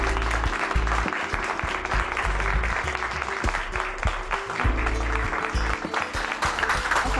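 Studio audience applause greets guests on a Pakistani television talk show, a dense, steady wash of clapping running loud and unbroken for several seconds, with some music or crowd sound mixed underneath.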